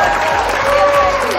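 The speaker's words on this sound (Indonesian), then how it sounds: "Tepuk tangannya nih." Applause from an online-seminar audience for the admin team, a dense continuous clatter at steady level under a faint voice, lasting only a moment.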